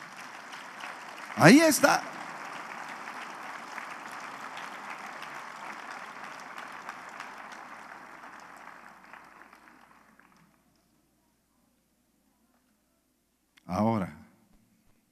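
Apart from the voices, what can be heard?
congregation applauding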